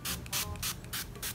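Facial mist is pumped onto a face in five quick, close hissing bursts, evenly spaced, with no talking.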